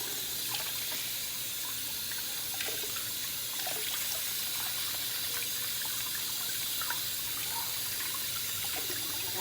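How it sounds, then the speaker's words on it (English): Cold tap water running steadily into a sink while fish is rinsed for Jamaican brown stew fish, a continuous splashing hiss with small clinks and drips, close and even throughout. "This water is really cold, so I can't keep my hand under the water as long."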